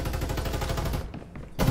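Rapid automatic gunfire in the battle-royale shooter Farlight 84, a dense burst of close, loud shots that breaks off briefly and then resumes with another heavy blast.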